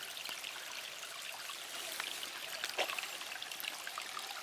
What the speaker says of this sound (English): we'll step over here and use the stones to walk our way back up the brook